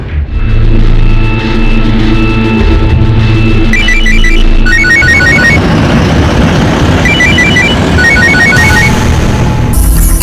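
A telephone rings in repeated electronic trill bursts, loud and steady over a droning engine-like background rumble, with no talking.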